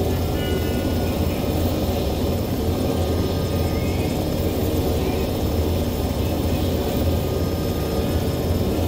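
Aircraft landing in Arma 3, a loud, steady engine and rotor drone that holds constant throughout without a break.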